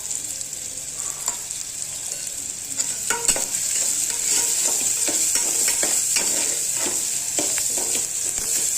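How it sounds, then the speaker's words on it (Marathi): Spices including mutton masala and coriander powder sizzle in hot oil for a tempering while a spoon scrapes and stirs the pan, steady frying hiss broken by repeated close scraping strokes, no talk. "फोडणी पण बघा तेल सुटेपर्यंत भाजलेली आहे."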